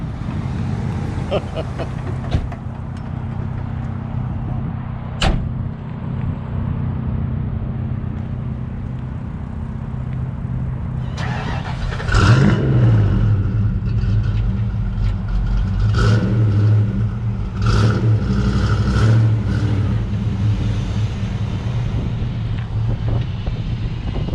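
A Ford Mustang Fox Body drives along with a steady engine rumble and wind buffeting, then the engine revs up harder partway through, the sound close and loud as heard from inside the moving car.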